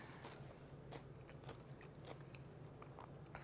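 Crunching bites of a tzatziki-flavored Greek-style cucumber salad, a series of sharp close crisp chews repeating irregularly over a low steady background hum, with no talking.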